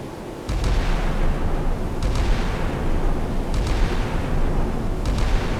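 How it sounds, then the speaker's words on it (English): Five-inch naval guns aboard an escort ship fire at an incoming missile in a naval video game set in the Red Sea in 1990, four evenly spaced heavy booms over a constant loud rumble. "Five-inch guns are shooting at the incoming missile."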